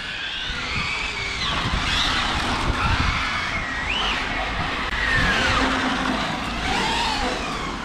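A 4x4 RC monster car brakes hard and skids, tires squealing in repeated sharp chirps and sweeping whines over a buzzing electric motor, loud and close with no one talking.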